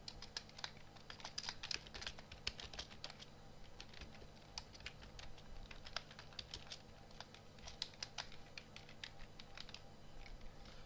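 Someone types Python code on a computer keyboard in quick irregular bursts of soft clicks, quiet and close, with a faint steady hum underneath.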